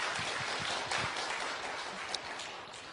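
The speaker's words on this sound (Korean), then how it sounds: "격려 박수 한번 하겠습니다" A church congregation applauding together at a Sunday worship service, a steady wash of clapping filling the room at moderate volume for a few seconds, with no one speaking over it.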